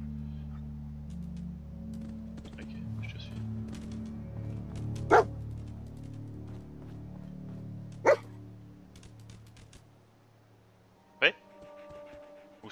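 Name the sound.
dog barking in the video game Fallout 4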